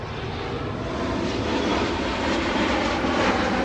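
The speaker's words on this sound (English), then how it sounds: "Plane's coming." An airplane flies overhead outdoors beside a parked 2019 Toyota RAV4 Hybrid, its engine roar loud and steady and growing slightly louder, with no talk.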